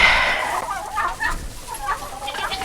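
Sussex chickens, an old English breed, cluck in a small urban farm flock, a series of soft, close, irregular clucks and short calls with no voices over them.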